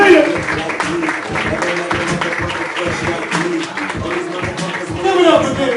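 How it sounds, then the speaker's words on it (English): A comedy club audience claps along in a steady rhythmic beat while a voice talks loudly over it, with crowd noise swelling near the end. "I need you to put your hands together right now. Start clapping, start clapping, start clapping."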